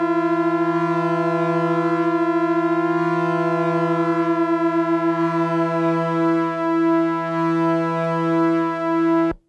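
Two synthesizer oscillators, a Befaco Even VCO and a Korg monologue, droning together while being fine-tuned, a steady buzzy tone whose beating pulses slow and fade as the pitches lock, then cut off abruptly.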